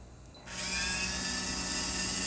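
A dental implant drill boring an implant site during hands-on training, running as a steady, loud, high-pitched whine that starts abruptly and continues without a break.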